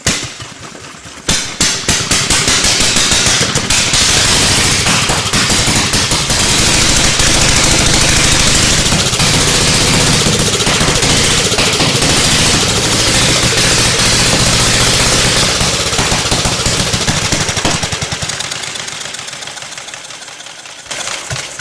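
An old motorcycle engine cranks and catches, then runs loud with a rapid hammering, clattery beat that holds steady before cutting off near the end.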